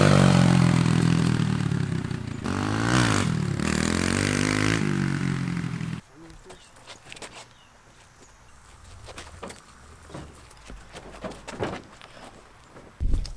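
A dirt bike engine revs loudly during wheelies, a sustained roaring rise and fall up close, then cuts out into quieter scraping, footsteps and scattered clatter.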